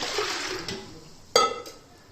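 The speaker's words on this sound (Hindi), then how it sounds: "ये 1 किलो पानी जा रहा है।" Water poured into a pressure cooker holding lentils for dal, a splashing gush that fades, then a sharp metallic clank of the pot followed by a brief trickle.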